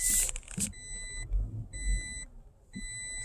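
A 2020 Toyota Tacoma TRD Off-Road sounds repeated electronic warning beeps after being shifted into 4 low, steady pulsed tones over a low engine rumble and faint knocks inside the cab.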